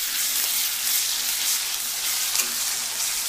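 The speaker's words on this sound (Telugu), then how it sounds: "అల్లం వెల్లుల్లి పేస్ట్ కూడా ఈ ఆయిల్లో కొంచెం వేగాలి, పచ్చివాసన పోయేంత వరకు." Ginger garlic paste fries in hot oil for a pepper chicken dish, a loud, dense, unbroken hiss of sizzling close up with no talking.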